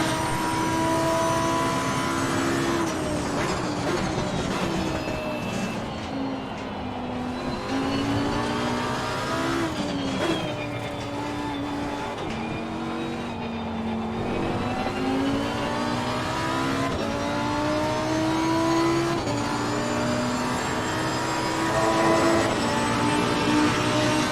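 Race car engines in Assetto Corsa Competizione at Silverstone, heard as loud, continuous engine drones that rise and fall through gear changes as cars run close together, with no talk over them.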